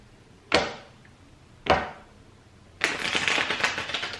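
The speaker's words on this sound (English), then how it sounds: "Give me one more shuffle for Gemini's person" Two short, sharp riffles of tarot cards followed by a longer, dense fluttering shuffle, close up with no talking.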